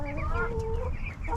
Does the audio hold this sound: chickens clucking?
yes